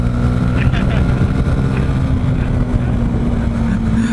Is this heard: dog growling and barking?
no